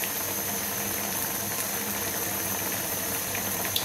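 Pabda fish curry simmers in a pot over a raised flame, giving a soft, steady bubbling and hiss close by, with no talking.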